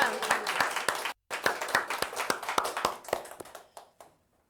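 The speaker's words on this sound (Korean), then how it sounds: "하나님께 영광을 감사의 박수로 들으시면 하겠습니다" Sunday congregation at a small church clapping in thanks to God, a brisk run of sharp, near hand claps with a brief gap early on, then tapering off into silence, voices mixed in.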